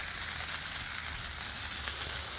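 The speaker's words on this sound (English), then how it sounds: "I want to flip them whole before I chuck them into pieces. This way I know both sides can get seared" Teriyaki chicken pieces sear on a hot Blackstone griddle, giving a steady, close sizzle with a dense crackling hiss that runs unbroken through the short moment with no voices.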